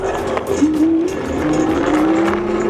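Rolling tire hum from a Windone K2 fat-tire e-bike with an underinflated front tire, a rising whine over road and wind noise, close and moderately loud.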